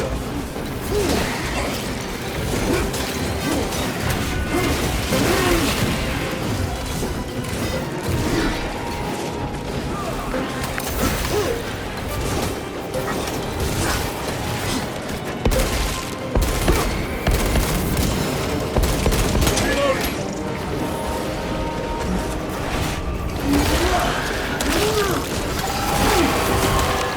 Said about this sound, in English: Using frag grenade.